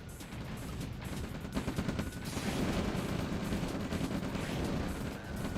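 Medium tanks in OpenRA Red Alert fire on harvesters, a dense, continuous clatter of rapid gunfire and blasts that builds and holds at a steady, moderately faint level.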